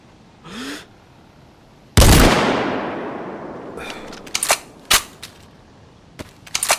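A gunshot in DayZ on Chernarus lands as a headshot: one loud, close crack with a long ringing echo tail, then a string of sharper, shorter shots and clicks, with no talk.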